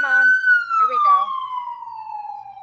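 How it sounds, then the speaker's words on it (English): An ambulance siren wails in a long tone that slowly glides downward as the vehicle passes, fairly loud, with a voice talking briefly over its first second. "it's actually good that the ambulance is here"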